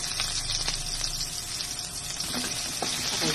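Garlic and onion sautéing in a pan for miso sinigang with maya-maya fish, giving a close, steady, loud sizzle with faint stirring clicks throughout.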